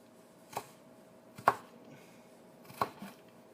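A knife slicing fresh ginger into thin pieces on a cutting board, three sharp separate cuts spaced about a second apart over a quiet background.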